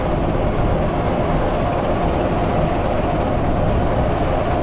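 A heritage railway diesel train, locomotive 47714, rumbles steadily into Crowcombe Heathfield station, with a continuous loud low engine drone and wheel noise and no talk.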